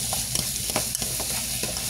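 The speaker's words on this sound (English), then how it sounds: "I'm trying to let the onions cook well" Onions fry in a pan for a macaroni tuna salad, a loud steady sizzle broken by sharp spoon-against-pan stirring knocks at irregular intervals.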